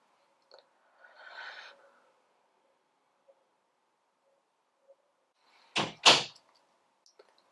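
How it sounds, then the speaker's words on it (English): A door swings shut with a sharp double thud, loud and close, after a quiet room with a soft rustle earlier. "My door just shut on its own."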